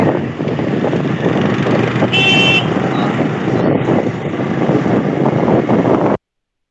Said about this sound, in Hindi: गाड़ी का आवाज आ रहा है सर.